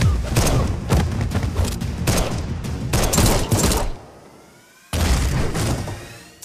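Dense gunfire and heavy impacts fill an action film fight scene, with rapid bursts and booms pounding loudly for about four seconds, a brief lull, then another loud barrage.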